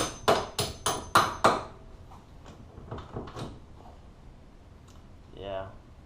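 A hammer taps on a stuck front differential axle of an RZR Turbo, giving five sharp, evenly spaced knocks, then a few softer scattered taps and clunks as the axle is wiggled, with a person talking briefly.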